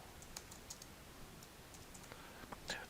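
Keys tapped on a computer keyboard while entering a move-with-operator command, heard as a few soft, scattered clicks with pauses between them, quiet against a low room hiss.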